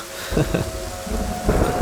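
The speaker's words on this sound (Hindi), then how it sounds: "मुझे बरसात बहुत पसंद है।" Steady rain pours through a thunderstorm, with low rumbling thunder swelling under the hiss and faint voice-like murmurs in the background.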